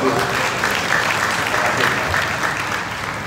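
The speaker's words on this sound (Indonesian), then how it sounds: "Jadi selamat buat Abigail dan Kania, tepuk tangan buat mereka." Loud, sustained applause from a crowd, steady clapping throughout with a voice faintly underneath.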